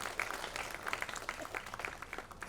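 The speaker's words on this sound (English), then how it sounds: "Round of applause for that." Audience applause at a literature festival panel in Bangalore, moderate, fairly distant clapping from a crowd that holds steady throughout.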